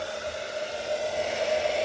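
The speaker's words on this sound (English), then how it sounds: "just drying with a hairdryer." A hairdryer blows on the damp roof headlining cloth of a Ford Falcon XR6 BF, a steady close whirring hiss with a faint motor whine, no talking.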